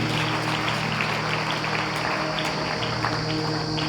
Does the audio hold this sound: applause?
yes